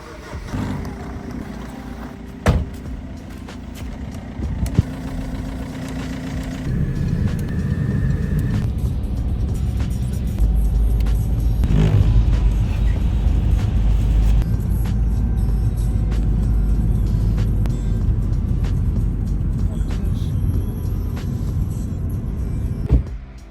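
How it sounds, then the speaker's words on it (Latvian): A car being driven home along a road after collection in Germany, fitted with yellow export plates; steady engine and tyre rumble rises after a few seconds and holds loud and continuous throughout, with no talking. "aizjam pēc mašīnas un braucam mājās"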